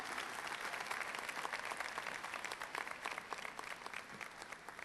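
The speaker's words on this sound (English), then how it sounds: "Let's give these folks a warm round of applause as we commend these graduates on their accomplishments." A large crowd gives steady, dense applause at the Johns Hopkins University commencement ceremony, filling the whole span with even clapping.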